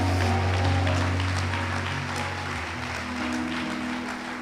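A church congregation claps together in a sustained, even round of applause, with a low hum continuing underneath.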